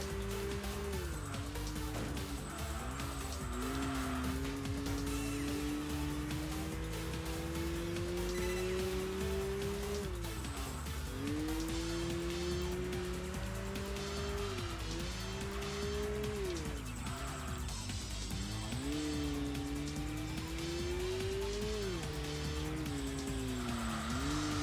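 A race car in Enthusia holds a steady, loud engine drone through the whole stretch, with the pitch rising and dropping between gear shifts and occasional tire squeal and skid noise under heavy left-foot braking into turns.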